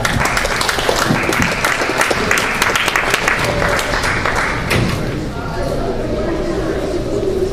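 A crowd at a university open-mic night gives a speaker another round of applause, loud and dense clapping close by. Scattered thumps run through it, and cheering voices come up in the final seconds.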